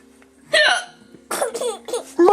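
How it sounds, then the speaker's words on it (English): A mother's sharp, close hiccups alternate with a small child's bursts of giggling in a loud, lively exchange. Several quick hiccups sound between the laughs. "Mommy got the hiccups."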